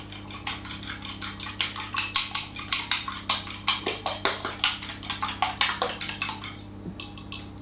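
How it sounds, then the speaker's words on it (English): Four large eggs gently beaten in a mixing bowl, the utensil making a steady run of light, quick clinks and taps against the bowl, close and fairly quiet, with no talking. "4 eggs, large, which I'm going to gently beat just to mix them up a little bit"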